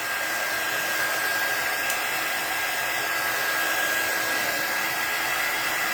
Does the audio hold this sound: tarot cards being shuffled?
no